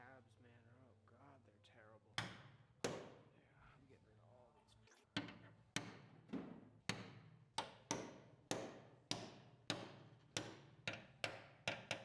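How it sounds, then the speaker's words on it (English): A hammer strikes a center punch against metal spot welds on car engine-bay brackets, a string of about sixteen sharp, evenly spaced metallic taps that come faster toward the end, with someone talking at the start. "I'm using a hammer and a punch to mark the center location on the spot welds"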